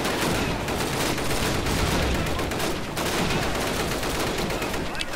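Relentless gunfire in the video game Call of Duty United Offensive: dense, overlapping shots and rapid bursts blending into a continuous, loud clatter, with only brief dips in intensity.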